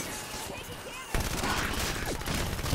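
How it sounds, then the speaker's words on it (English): Rapid automatic gunfire from the Halo 5: Guardians video game, a dense burst of shots that starts suddenly about a second in and runs steadily to the end, loud over a quieter game backdrop. "Wanted a rapid fire gun"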